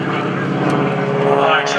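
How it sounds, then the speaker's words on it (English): A propeller plane's engine rumbles steadily at the 2015 Greenwood Lake Airshow, a loud continuous drone, while a commentator talks over it. "I just love the sound of that engine. Rumble, rumble, rumble, baby."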